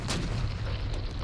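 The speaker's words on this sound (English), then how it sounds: "Then dozens of cannon on both sides joined in a fierce artillery duel." Cannon fire from an artillery duel in the Battle of Fredericksburg, a dense, continuous low rumble of booms with a sharper report near the start, heavy and sustained without speech.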